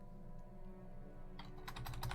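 Typing on a computer keyboard comes in during the second half, a quick cluster of close, crisp key clicks over a low steady background hum.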